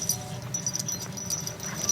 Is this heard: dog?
yes